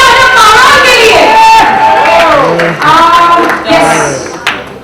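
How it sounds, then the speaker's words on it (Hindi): Guests at a party break into a burst of clapping and cheering for the host, Parul, loud and close, with shouts and voices mixed through the applause before it fades. "प्लीज जोर से एक बार तालियां हो पारुल के लिए"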